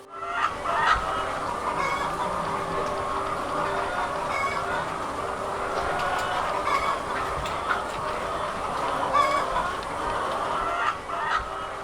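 A flock of laying hens on an Indonesian egg farm clucks steadily and continuously, with many overlapping birds at moderate distance and occasional louder calls cutting through the dense background.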